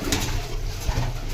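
Low, rolling coos from female pigeons nearby, repeating in a soft continuous rhythm with no voices.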